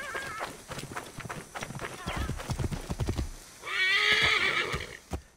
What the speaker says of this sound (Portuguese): Vamos de cavalinho, que é mais rápido e tal.